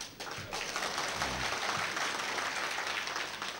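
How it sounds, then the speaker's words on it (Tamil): An audience claps through a Tamil spoken-word program at a Margazhi festival, a soft, steady wash of applause that keeps going without a break. "எதை நினைத்து நீங்கள் கைதட்டுகிறீர்களோ"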